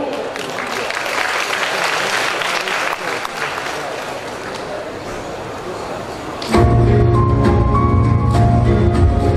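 Dense audience applause at a cosplay competition greets a performing group, a loud, continuous clatter of many hands for several seconds before it cuts abruptly to a loud music track.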